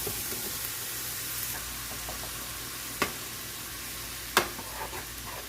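Vegetables and garlic sizzle steadily in a hot pan, a continuous frying hiss with a couple of sharp clinks of a utensil against the pan partway through.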